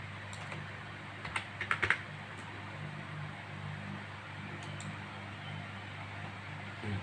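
Typing on a computer keyboard while making a sign in a computer program, a short burst of clicky keystrokes early on over a steady fan-like background hum, then mostly quiet room tone.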